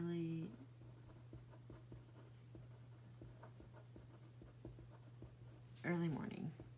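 A pen writes in a paper daily planner, giving soft, rapid scratching strokes close to the microphone over a steady low hum, with someone speaking briefly at the start and end.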